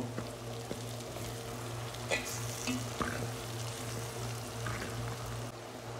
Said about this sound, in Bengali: এখন আমাদের মশলা ভাজা হয়ে গেছে